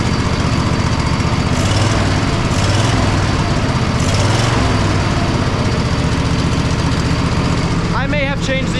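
Poulan engine running after a new alternator installed: a steady, loud mechanical drone with a buzzy high-pitched tone, continuous throughout, with someone speaking briefly near the end.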